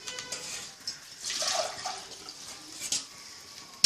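Water splashes and trickles into a pot of tamarind mixture in short, uneven pours, fairly faint and close, with no voices.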